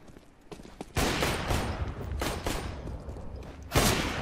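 Gunfire in Counter-Strike: Global Offensive cracks out in several sharp, loud shots and short bursts, spaced unevenly with brief lulls between them and no talk over it.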